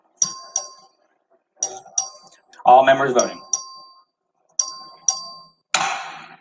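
Bright electronic chimes ring in the Texas House chamber, sounding in quick pairs and repeated groups across several seconds, near and clear, while an official briefly speaks between them.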